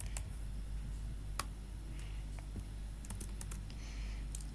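Typing HTML code on a computer keyboard, with scattered light key clicks over a steady low hum, fairly faint and with no talking.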